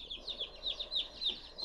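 Young chicks in a chicken nursery give a run of quick, high peeping chirps in a steady repeating rhythm, faint and close, with no talking.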